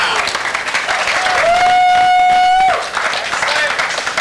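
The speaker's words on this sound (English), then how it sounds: "he's got a lot of friends back here that are cheering him on" A crowd of friends at a bowling tournament claps and cheers for a bowler, loud and close, with a sustained whistle rising partway through and a commentator talking over the applause.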